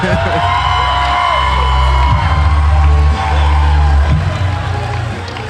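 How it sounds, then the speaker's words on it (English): A packed hometown Sheboygan crowd at a fight event roars and cheers loudly without letup, whoops and shouts layered over a booming announcer voice and deep music underneath. "One thing about the Sheboygan crowd is they really support their own. It is loud when someone from Sheboygan comes out here."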